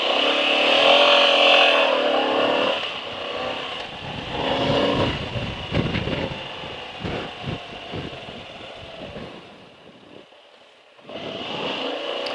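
A Moto Guzzi V85TT motorcycle in sport mode accelerates on the road, its engine rising and falling through gear changes under strong wind rush, heard from the rider's position with no talking.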